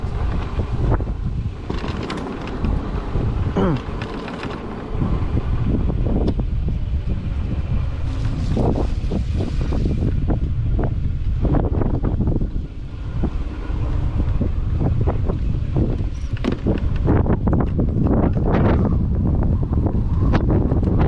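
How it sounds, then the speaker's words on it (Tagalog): Steady wind gusting across open rolling hills, a loud continuous roar buffeting the microphone with shifting surges throughout, no voices. "Sarap naman ng hangin."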